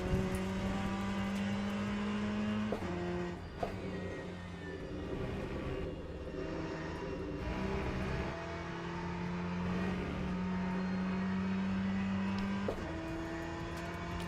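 A GTE race car with flat-spotted tires drives in a racing video game, its engine a steady droning whine that shifts pitch with gear changes and throttle, heard alone without talk.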